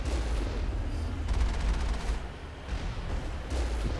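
Dense, continuous gunfire and explosive blasts from a Mass Effect firefight, loud and sustained with rapid overlapping shots for the whole stretch.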